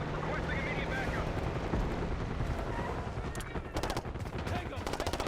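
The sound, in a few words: gunfire in the video game Call of Duty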